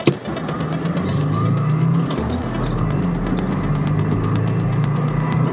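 A Subaru Outback on a cold day pulls away, its engine running in a steady low drone that swells a little as the car gets moving, with road and wind noise mixed in.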